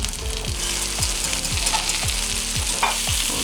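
Fish fries in butter in a kitchen in the world's northernmost town, giving a close, bright sizzle with steady crackle. A repeating tonal pattern sits beneath it, and no one speaks.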